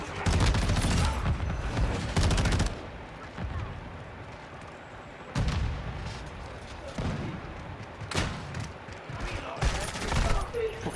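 Bursts of gunfire in a Call of Duty match, loud rapid volleys in several separate clusters with quieter gaps between, while a player talks excitedly over the shooting.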